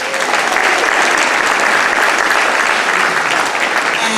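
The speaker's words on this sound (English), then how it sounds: "let's have another round of applause for our section leader, Jim Sheldrake, and our magnificent trumpet section." Loud, sustained applause from a concert audience honoring a trumpet section at a band concert, a dense even roar of clapping that holds steady throughout with no talk over it.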